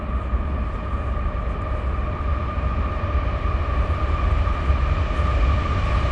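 A train rolls past nearby along a track near a Civil War battlefield at Fredericksburg, a loud steady rumble and rattle filling the whole stretch with no break and no talking.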